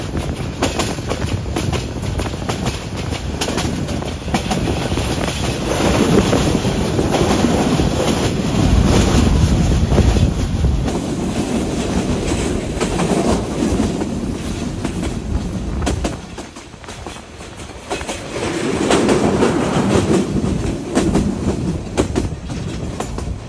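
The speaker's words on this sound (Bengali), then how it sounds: "কার্ভ নিয়ে নিল আমাদের এই ট্রেন" The Paharika Express on the Chittagong–Sylhet line rumbles loudly through a sharp curve among tea gardens and hills, with a continuous clattering of wheels on rails and a brief dip in the roar partway through.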